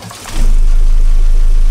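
A sailboat's broken engine is started: a brief low rumble catches and settles into a loud, steady, rapidly pulsing mechanical throb that runs to the end.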